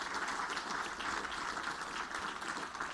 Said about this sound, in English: please give a big round of applause to everyone who worked so hard to make this world-class event